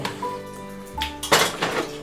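Dishes and cutlery clink in a kitchen while a spoon is fetched, a few bright metallic chinks and rattles building to a louder clatter at the end, close by and without talk.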